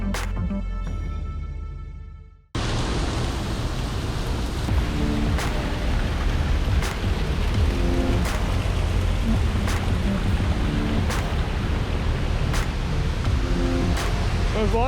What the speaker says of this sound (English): There's water coming out of everywhere.